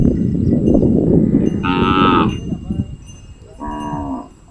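Two loud, close desi cow moos, one long and one shorter, as cows return to the farm from the forest, over a rumbling outdoor background.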